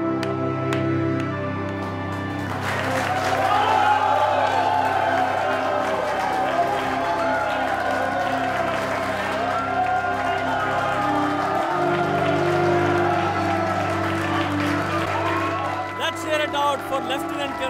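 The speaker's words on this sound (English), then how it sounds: "Let us all stand up and applaud our real heroes." Diners in a restaurant stand and applaud members of the Indian Armed Forces, a sustained crowd clapping with some cheering that carries under and around talk and background music for the whole stretch.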